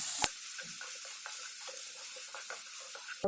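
Steady crackling sizzle of onions sautéing in hot oil, with a sharp clack near the start and another at the end, no voices.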